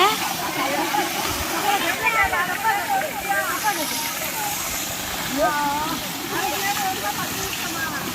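Steady broadband rush of flowing water fills the whole stretch, with scattered splashes and chirpy sounds riding over it at close range.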